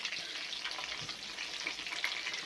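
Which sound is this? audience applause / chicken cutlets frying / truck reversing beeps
chicken cutlets frying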